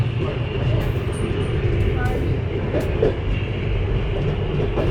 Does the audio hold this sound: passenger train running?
yes